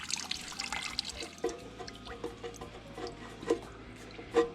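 Oil drains from the engine of a 1949 Farmall H tractor, a close liquid trickle with occasional drips and splashes over a low background hum.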